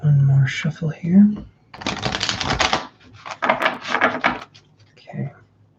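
Tarot cards being shuffled by hand, with bursts of riffling and rapid papery clicks between brief pauses, alongside a person talking at the start and end.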